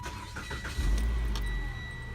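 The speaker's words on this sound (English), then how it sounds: "Now you need to turn the car on for about 5 seconds." A car's engine cranks and catches, then settles into a steady idle, run briefly to circulate fresh oil after an oil change.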